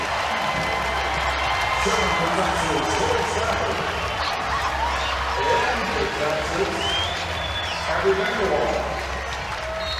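A crowd at a women's college volleyball match between Texas and Baylor roars and cheers on its feet at the Gregory Gym, a dense, sustained wash of noise with a commentator talking over it.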